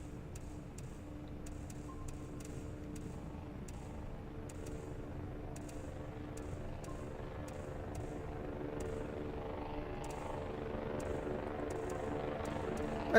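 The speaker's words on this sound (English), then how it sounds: "That drone is loud as hell." A loud drone flying in the video game Voices of the Void, a steady droning engine hum with a faint regular ticking on top, continuous and unchanging throughout.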